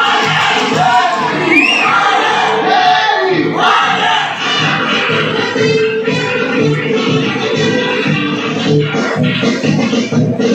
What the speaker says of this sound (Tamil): எம்ஜிஆர் திரையில் தோன்றிய காட்சிகளை ரசிகர்கள் ஆரவாரம் செய்து ரசித்து மகிழ்ந்தனர்.